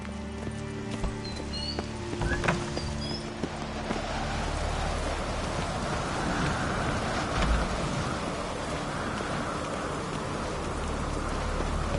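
Horse hooves clip-clopping during a ride in The Witcher 3, a steady patter of hoofbeats blended into a constant wash of rain, with no talk over it.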